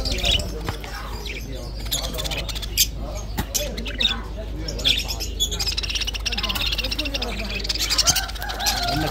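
Dutch lovebirds with red eyes chirp and squawk in rapid, scattered bursts at a crowded bird market, mixed with other bird calls, background chatter and clatter.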